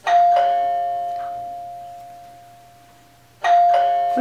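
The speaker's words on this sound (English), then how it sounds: "It's a doorbell." A doorbell chimes twice, each ding ringing out clearly and slowly decaying, with a pause between the two chimes.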